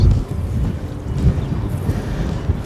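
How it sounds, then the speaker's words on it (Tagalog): Strong wind gusts buffet the microphone on a fishing boat at sea, a steady low rumbling roar with bursts of louder gusts throughout, no voices. "Malakas po kasi ngayon ang hangin."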